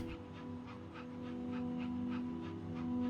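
A small dog pants steadily with faint whimpers in the video game That Dragon, Cancer, soft and even over a low steady hum, with no talking.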